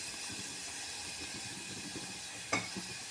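Sweet corn cutlets frying in hot oil give off a continuous hissing sizzle, with a single sharp clink partway through and some low background rumble; no voices.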